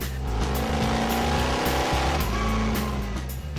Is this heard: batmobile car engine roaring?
yes